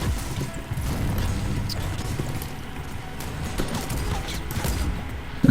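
Gunshots in the Fortnite video game, scattered sharp cracks and thuds over a busy rumbling backdrop, moderately loud, with a sudden louder burst at the very end.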